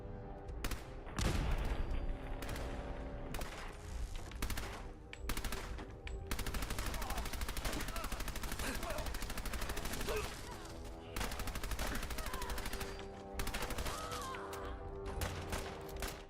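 Sustained rapid automatic gunfire in Fallout 4 aimed at a thrown grenade in mid-air, dense, loud and continuous, with brief pauses between long bursts.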